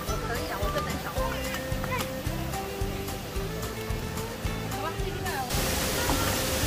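At the Manyueyuan waterfall in a Sanxia forest park, water roars as a constant wash of noise while children and adults talk and footsteps pass close by.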